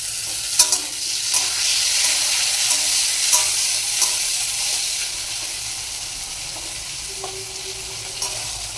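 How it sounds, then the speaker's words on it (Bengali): Chopped tomato frying in hot oil in a pan, a loud steady sizzle and hiss throughout with a few faint stirring clicks, close up and without talk. "আমি এবার টমেটো কুচিটা দিয়ে দেব"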